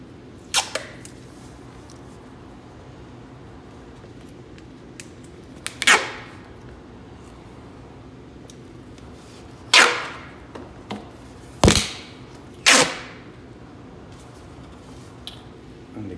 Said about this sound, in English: I'm going to wrap it up with the clear tape